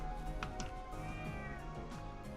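A cat meows faintly a few times in the Trails of Cold Steel video game, set against steady background game music.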